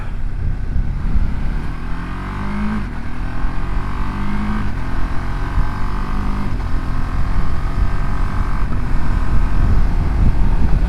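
A 2026 Ducati Multistrada V2S motorcycle engine drones steadily at speed, kept below high revs, its pitch rising and falling through gear changes, with heavy wind rush over the microphone.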